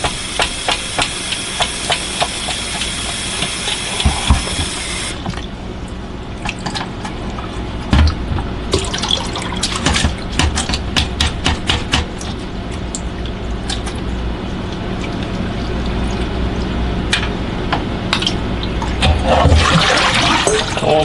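Tap water runs and splashes over shredded potatoes being rinsed for hash browns, a steady rushing hiss with rattling clicks and handling noises, the flow briefly cutting off and restarting near the sink.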